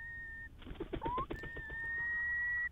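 A curlew settling onto its eggs at the nest gives a few soft calls, low-volume whistled notes and a brief cluster of pulsing sounds, heard faintly outdoors with long sustained tones.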